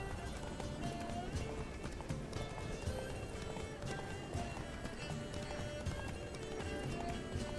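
In The Witcher 3: Blood and Wine, a horse gallops steadily for several seconds, its rapid hoofbeats drumming over a busy ambient background with occasional snorts, fairly close and even in loudness.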